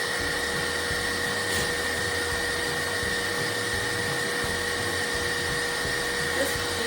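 An electric mixer whips egg whites toward soft peaks for an angel food cake meringue, giving a steady, loud, close motor whine with no break.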